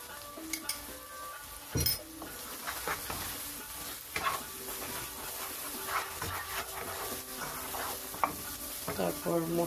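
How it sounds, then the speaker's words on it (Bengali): Chili powder and spices stirred and sautéed together in a pan for a dried fish curry, a soft sizzle under frequent scraping and clinking of a spoon against metal, close and irregular. "আবার একটু কষিয়ে নিব, সব মশলাগুলো একসাথে মিশিয়ে নিব"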